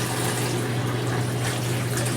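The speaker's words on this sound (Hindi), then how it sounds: "व्यूअर्स पानी डालना हमने स्टार्ट कर दिया है।" Water pours steadily into the drum of an automatic washing machine, a continuous, dense rushing and splashing that stays loud and close without any pauses or talk.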